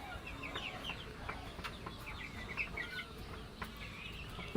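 Chickens on a small poultry farm where a few hens had been ill cluck and chirp in scattered short calls, fairly close, over a steady low background hum with no talking.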